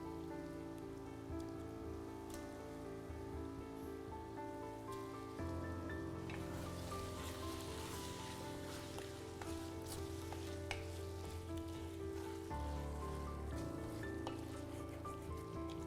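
Chicken is mixed into sizzling masala for Kongu Nattu chicken biryani: a dense, continuous frying hiss close up, with occasional stirring scrapes and clicks and no talk.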